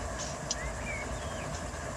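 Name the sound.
freight train running in the Run8 train simulator game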